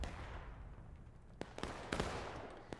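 Musket fire crackles during a Union and Confederate battle on the Pat's Turnpike map in War of Rights: scattered sharp shots, some nearer and some distant, over a constant battlefield rumble.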